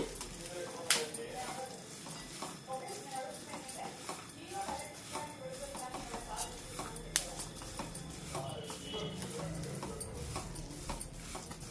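Ingredients for navaratna laddu are lightly dry-roasted in a pan, faint ticking and scraping stirs over a quiet sizzle, with a voice talking over them.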